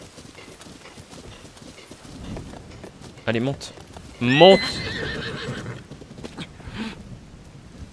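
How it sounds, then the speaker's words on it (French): Horse in Zelda: Tears of the Kingdom, with a loud neigh and clip-clop hoofbeats in the middle, set against game ambience and someone speaking French. "Flying horse."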